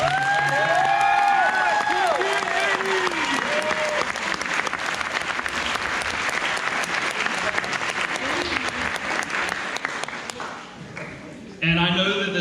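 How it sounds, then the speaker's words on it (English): Long, loud applause from a high school band banquet audience, steady clapping with scattered cheers and voices mixed in, tapering near the end before a brief final burst. "can we give them a round of applause for everybody?"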